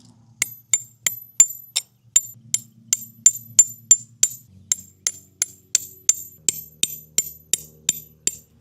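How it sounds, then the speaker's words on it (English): An MSR stake hammer strikes metal tent stakes at a campsite, about twenty sharp, ringing metallic taps in a steady, close rhythm with brief pauses, nearly alone. "Now, I've got our MSR stake hammer. Let's get this thing staked down."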